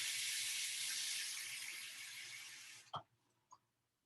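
Warm water pours steadily onto a plate in a kitchen, a broad rushing splash that fades slightly before stopping abruptly, followed by two small clinks or drips.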